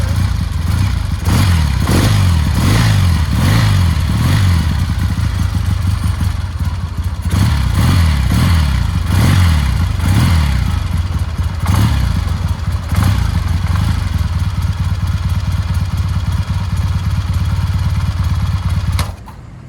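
A 1979 Triumph Bonneville motorcycle engine, off choke, fires up for the first time in 15 years, running loud and close with uneven revving, thumps and mechanical clatter for most of the clip before cutting off at the end.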